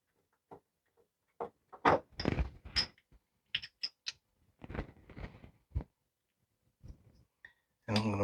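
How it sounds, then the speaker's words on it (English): Screws are worked out of two-handle shower faucet handles with scattered close clicks, taps and scrapes of metal parts, separated by quiet gaps and ending in a brief louder rattle. "we're going to take these screws out of these handles"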